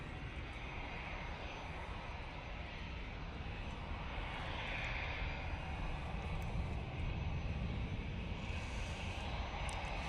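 An Airbus A350 engine roars at Manchester Airport on a breezy day, a steady, broad, distant rumble that holds evenly for ten seconds with wind noise blended in.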